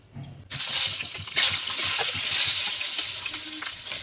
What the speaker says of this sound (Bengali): দিয়ে ডিমগুলোকে লাল লাল করে ভেজে নেব।